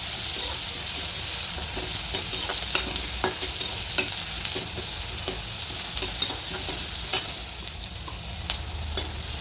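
Chopped onions with salt frying in a pan until golden, a steady dense sizzle with frequent spatula scrapes and stirring clicks throughout, close and loud.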